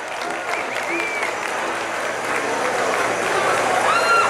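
A crowd at a nighttime bull-riding tournament of toros de reparo claps loudly, with dense applause swelling gradually over a few seconds and carrying across the arena.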